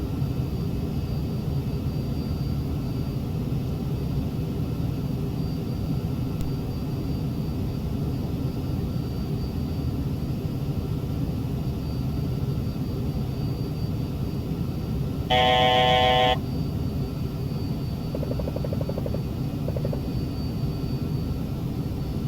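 Falcon 50 business jet landing in X-Plane 11, a steady loud roar of engine and reverse thrust filling the whole stretch, with a brief electronic tone sounding near the end.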